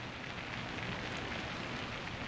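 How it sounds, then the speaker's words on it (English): Rain in the airport management game SimAirport is a steady, dense patter of falling drops that stays even and fairly soft throughout, with no voices over it. "it is raining, which is one of the new cool effects in this game"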